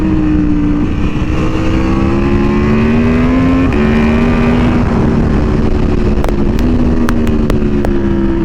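Aprilia Tuono V4R motorcycle engine revving loudly and steadily up close, its pitch stepping up through gears, with a series of sharp crackles or pops near the end.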